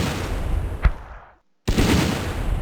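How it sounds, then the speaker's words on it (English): A mortar fires in the World War II strategy game Battle Academy 2, on the Eastern Front near Moscow in November 1941: one sharp boom over steady battle ambience, then a brief drop to silence before the noise returns. "Just out of range of my mortar, but I guess we're going to give it a go anyway"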